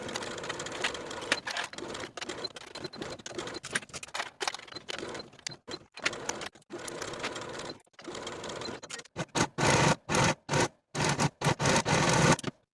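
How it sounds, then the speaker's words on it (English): A sewing machine stitches a seam on a boho-style top, running in short bursts broken by brief pauses, with the later bursts louder and choppier. No voices are heard. "Sew this seam with a 1/2 inch seam allowance"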